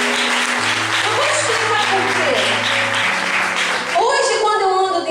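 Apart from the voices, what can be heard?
church congregation applauding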